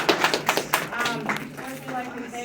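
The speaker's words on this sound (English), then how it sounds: "Give yourselves a round of applause for coming out." An audience at an event in Pasadena, Texas, claps at the start, a scattering of sharp claps that fade as a voice begins speaking over them.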